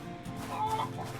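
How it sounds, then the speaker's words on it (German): A game fighting chicken in a birch forest clucks faintly in short, uneven bursts over a low ambient background. "Ist da ein Huhn? Oh, da ist ein Kampfhuhn."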